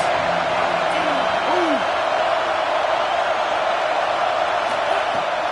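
Football stadium crowd roars as a broad steady wash of noise while the home fans try to rattle the opposing offense on a third down, loud and continuous, with a few faint whoops.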